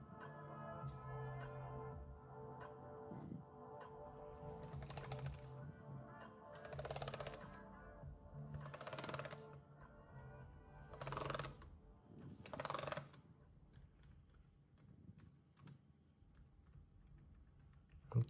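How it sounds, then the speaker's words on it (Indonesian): Keys tapped on an ASUS ROG Flow X13 laptop keyboard, a string of quiet clicks under a steady background hum, with several louder bursts of rapid typing. "Lanjut kita tes keyboardnya."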